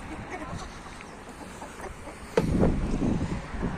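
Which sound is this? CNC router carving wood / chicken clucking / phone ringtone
chicken clucking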